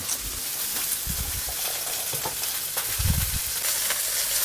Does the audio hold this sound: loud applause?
no